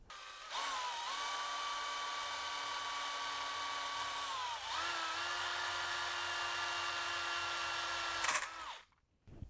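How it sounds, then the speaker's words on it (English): A power drill bores a hole into a Bachmann 2-4-2T G-scale model locomotive, its steady high whine running for several seconds, dipping briefly in the middle, then continuing before stopping abruptly near the end. "I've drilled a hole and mounted the switch here"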